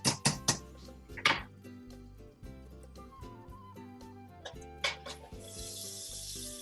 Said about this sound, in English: Again, you'll hear that nice sizzle.